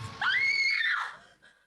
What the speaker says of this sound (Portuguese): Eu gritei tão alto que dava para ser ouvida até na China